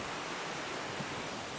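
Small waterfall pouring into a deep pool under a bridge on the river Twrch, a steady broadband rush of falling water close by with no voices.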